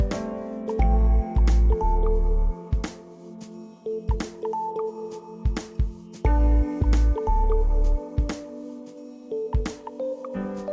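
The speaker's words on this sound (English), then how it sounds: "Now I'm going to add 2 tablespoons of milk, 1 tablespoon at a time, and slowly I'm going to incorporate it." Milk is worked into coffee cake batter, giving wet squelching and slapping strokes in an irregular rhythm, close and fairly loud, against a faint steady background hum, with no talking.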